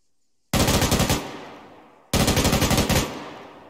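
A crew-served machine gun in a video game fires two long, loud bursts up close, each a fast rattling string of shots with a short silent gap between them and no talk.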